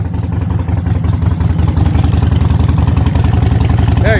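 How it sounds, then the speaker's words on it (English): Harley-Davidson Sportster motorcycle engine running close by with a steady, loud pulsing rumble and a slight rise in revs, a voice briefly heard over it. "should Dad rev his motorcycle?"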